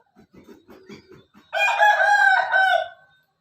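A red Burmese fighting rooster gives one loud, close cock-a-doodle-doo lasting over a second. It is preceded by a few soft, low clucks.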